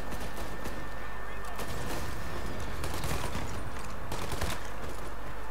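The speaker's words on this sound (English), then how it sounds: "Someone was shooting me." Gunfire crackles at the player in Mafia Definitive Edition, a steady barrage of sharp shots and bursts over a dense combat din, with faint talk underneath.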